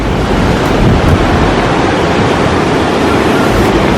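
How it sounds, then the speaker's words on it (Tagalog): Strong surf at Oxley Beach Reserve roars as a loud, continuous wash of breaking waves, heavily mixed with wind buffeting the microphone and no voices. "ang lakas ng alon"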